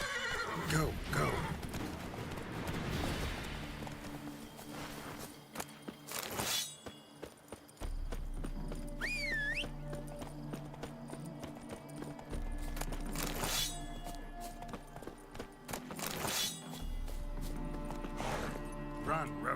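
Galloping hooves of Roach, the horse in The Witcher 3 video game, clip-clop alongside a whinny and game effects, with voices talking over parts of the ride.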